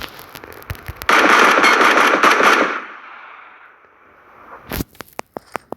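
A long burst of rapid automatic gunfire in the video game PUBG, loud and close, fading into a low rumble, followed by several sharp single shots spaced apart.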